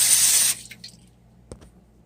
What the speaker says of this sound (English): We're going to just spray the sides here, spray the insides of it